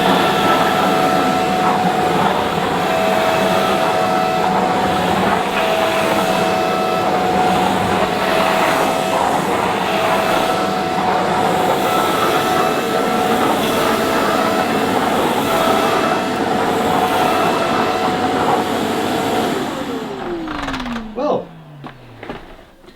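A Shark CV100UKT bagless cylinder vacuum cleaner runs at maximum suction over carpet, a loud, steady roaring rush of air and motor noise that holds for about twenty seconds before the motor winds down with a falling whine.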